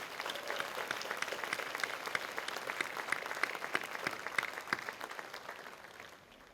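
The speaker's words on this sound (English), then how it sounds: "And one more round of applause," An audience at a sports hall of fame ceremony gives sustained applause: many hands clapping in a dense, fairly distant patter that holds steady and then fades at the end.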